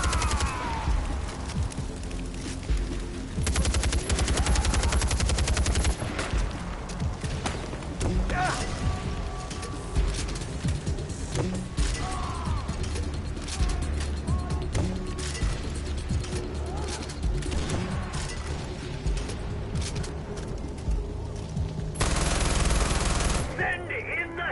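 Heavy gunners in Far Cry 4 lay down sustained automatic fire in rapid bursts for a long stretch. Thuds and mechanical clatter mix in, and speech runs at times in between.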